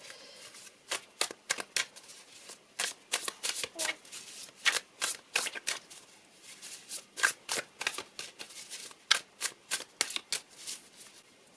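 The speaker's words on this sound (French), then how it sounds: "On va bien mélanger les cartes." Tarot cards being shuffled by hand, a steady run of crisp riffling bursts in irregular clusters, close and clear with no talking over them.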